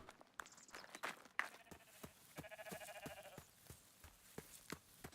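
Sheep bleating in the video game Rising World, several short calls from a nearby flock mixed with soft footsteps, with no talking.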